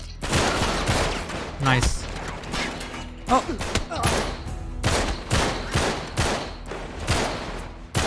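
Rapid bursts of gunfire from Uncharted 3: Drake's Deception, repeated volleys and heavy impacts in close, loud succession, with a voice briefly speaking over the shooting.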